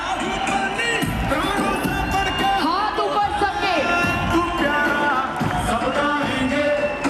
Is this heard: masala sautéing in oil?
no